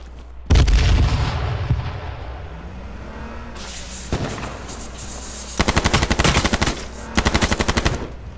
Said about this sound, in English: Throw grenades.